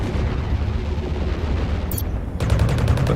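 Point defense guns on a spaceship in Fractured Space fire at incoming missiles, a steady low rumble of combat that breaks into rapid, evenly pulsed bursts of gunfire, loud and close, with no talk over it.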